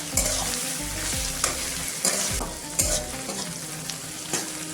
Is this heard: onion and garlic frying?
yes